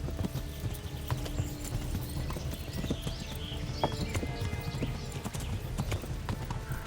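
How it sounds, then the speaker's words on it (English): Horse hooves clip-clopping at a steady gallop with an occasional neigh, set in the medieval game Kingdom Come: Deliverance, with continuous game ambience and no talk. "Oh my god, horse."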